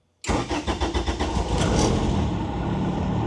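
A 1992 Honda Civic VX engine cranks with a quick series of rhythmic starter pulses, then fires and settles into a steady, close idle.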